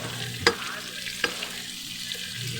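Onion, garlic and ginger sauté in a pan, a low steady sizzle with two sharp utensil knocks against the pan, heard close up.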